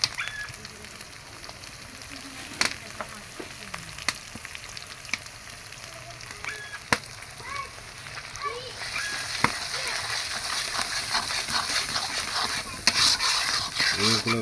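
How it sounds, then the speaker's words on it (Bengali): Cabbage with turmeric and mixed masala spices sautés in a hot pan, a steady sizzle with sharp clicks of a spoon against the pan, growing louder and fuller toward the end. "এগুলো একটু কষিয়ে নেব"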